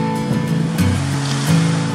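Gentle ocean surf on the Sea of Japan at Hagi, Yamaguchi, on a nearly flat, windless December morning, a continuous soft wash with low rumbling underneath.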